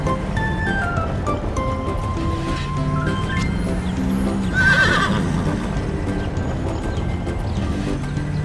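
In a truck cartoon, a horse neighs over busy background music with hoof clip-clops; the whinny peaks loudly near the middle.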